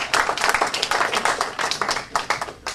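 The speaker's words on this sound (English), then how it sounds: "Give yourself a round of applause." An audience at a mentoring weekend claps in a brisk, dense burst of applause lasting a few seconds, with sharp individual claps standing out near and loud.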